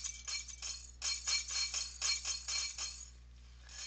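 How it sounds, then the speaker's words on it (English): Glass bottles fall and clink against one another in the Happy Wheels video game. Bright, rapid clattering bursts of chinking glass come one after another at close range, then thin out over a soft steady hum with no speech. "Bottle fall. I love bottle falls."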